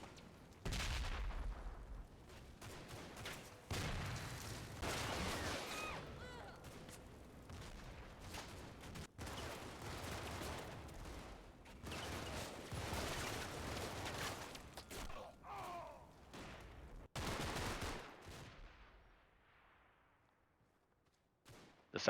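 Gunfire and mortar fire in the Combat Mission WWII game at Festung Posen, with an 81mm mortar in play: a dense run of gunshots, bursts and booms lasting about eighteen seconds, then a fade toward near silence with a final crack.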